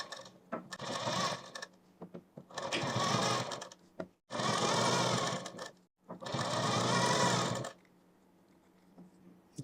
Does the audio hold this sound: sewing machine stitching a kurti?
yes